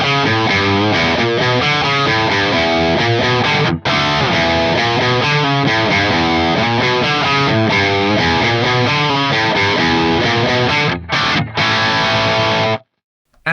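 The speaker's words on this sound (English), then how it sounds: "So for live guitar tones, that's where I start with the low and the high cut." Distorted electric guitar played through a Fractal FM3 cab block with low and high cut applied, loud sustained chords and riffs running continuously with brief pauses and no talk.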